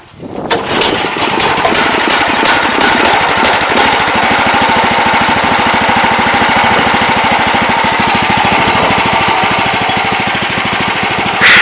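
A pressure washer's small engine catches almost at once on the first pull and runs loud and close with a fast, steady, rattling chatter that holds for about eleven seconds.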